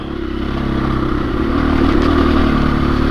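A 2021 KTM 500 EXC-F dirt bike engine runs on a trail, a loud, close single-cylinder drone that swells slightly midway and holds strong to the end.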